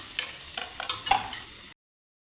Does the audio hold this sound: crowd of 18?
no